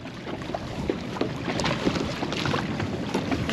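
Steady drone of a boat's outboard motor, fully lowered and running as the boat casts off from a mooring on a sunny morning, with wind buffeting the microphone and splashing water, no talking.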